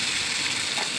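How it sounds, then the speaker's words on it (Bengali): Drained flattened rice (chire) fries in hot ghee in a pan, giving a close, steady, dense sizzle with no pauses. "জল ঝরিয়ে রাখা চিড়েগুলো আমি এর মধ্যে ভেজে নেব"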